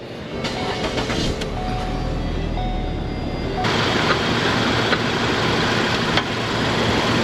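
A 2013 Ford Escape engine in a repair shop starts and keeps running, a steady loud mechanical rumble that lifts in level partway through, with no talk over it.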